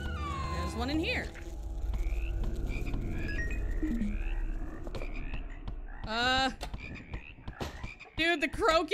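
Frogs croak in a continuous low rattling chorus in the video game House, interrupted later by loud cat-like yowls and caterwauling.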